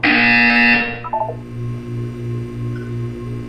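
A loud electronic buzzer in the video game Portal 2 blares for about a second, then cuts off into a few short beeps and a low pulsing hum.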